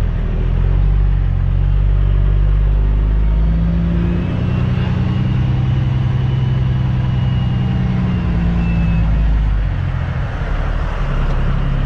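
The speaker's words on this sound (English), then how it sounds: "Roll forward. And the brakes release." A truck rolls forward on a gravel road once its brakes release, its engine giving a steady, loud low rumble that holds throughout with no talking over it.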